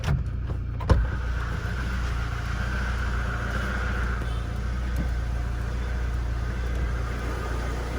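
A Mahindra Scorpio engine idling steadily after a jump start, a close, even low rumble with a brief click near the start and no talk.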